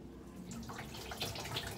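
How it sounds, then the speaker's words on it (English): A tap runs steadily while hands are washed beneath it, a soft close splashing and trickling that stays even throughout. "I'm gonna wash my hands."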